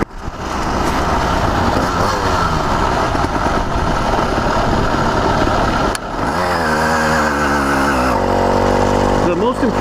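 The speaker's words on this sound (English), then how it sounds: "this thing just hums at 28 miles an hour like it's nothing" A CDH110 110cc motorized bicycle engine runs steadily at low RPM and quarter throttle while cruising at around 28 mph, giving a loud continuous hum with wind rush. Near the end the drone dips and shifts pitch.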